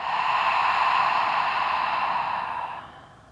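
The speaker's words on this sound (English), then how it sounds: "Again, deep breath in. Big exhale." A person takes a deep breath in and lets out a big, long exhale during a grounding exercise, a close, breathy whoosh that fades out at the end, with no talk.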